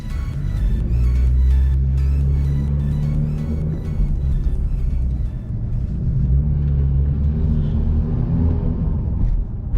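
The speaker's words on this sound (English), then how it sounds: "I'm sure you can hear the intake already." Car engine intake drones steadily with a whistling whine under a carbon hood, loud and close, easing slightly in the middle before holding again, with no talking.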